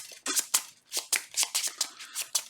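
Playing cards are shuffled at a tabletop card game, a rapid run of crisp riffling flicks and snaps, close and fairly quiet, with no talk.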